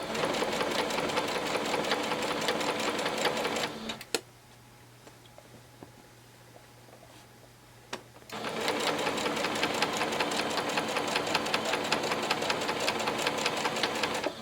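A sewing machine stitches a pillowcase dress seam in steady rapid bursts, stopping for about four seconds midway before running again, loud and close with no talking.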